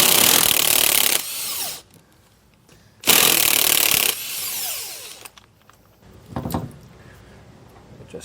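A power tool zips in two loud bursts about a second long each, unbolting leaf springs on a vehicle's equalizer side, followed by quieter clanks and rattling of parts.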